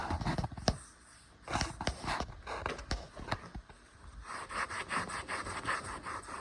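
Wooden coffee table being wiped down by hand, a series of uneven rubbing strokes that swell and fade, close and fairly loud, with a denser stretch of rapid scrubbing toward the end.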